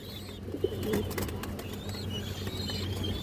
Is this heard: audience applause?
no